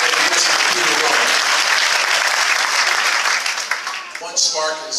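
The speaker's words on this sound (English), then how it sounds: "So let's applaud him" Loud, dense audience applause at the One Spark 2014 kickoff event in Jacksonville, a sustained close clapping that holds steady before thinning and tapering off near the end.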